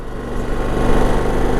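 A motorcycle engine drones steadily while a gear is downshifted, the engine note thickening and growing slightly louder partway through, with no talking.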